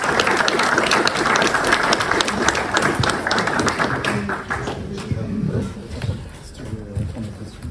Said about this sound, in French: On peut applaudir Paul déjà.